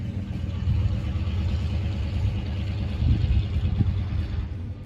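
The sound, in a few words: loud truck driving by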